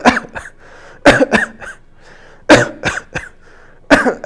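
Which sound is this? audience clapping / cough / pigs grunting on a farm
cough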